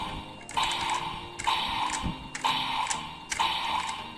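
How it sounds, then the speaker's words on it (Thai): A Kamen Rider Geiz DX Zikan Girade toy weapon's electronic sword-slashing effect repeats four times at a steady pace, each a short bright whoosh and clang. "อีกเสียงเป็นฟันดาบนะครับ"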